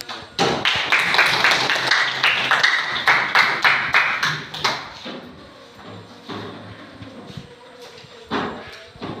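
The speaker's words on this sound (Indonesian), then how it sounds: "Boleh tepuk tangan dulu." A classroom of students claps hands together at the teacher's request during an Islamic studies lesson, a burst of mixed, uneven claps that fades out after a few seconds, with a few scattered claps afterwards.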